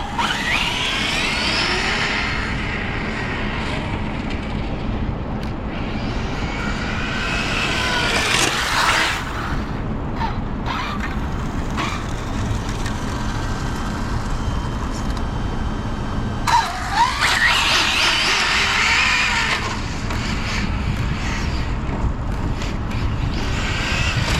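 Arrma Infraction RC car on cheap replacement wheels being driven back in, a steady near motor whine and tire rumble with wind buffeting and brief louder swells, no talking.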